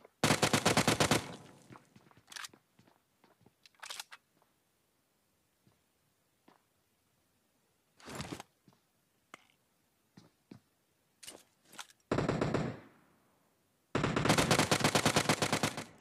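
Gunfire in PUBG, with loud sustained automatic bursts at the start and end and scattered single shots and short bursts in between, some close and some distant, without talk.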